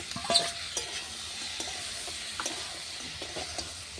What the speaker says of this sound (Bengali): ভাজা হয়ে গেছে এবার দেবো বড়ি আর বেগুনগুলো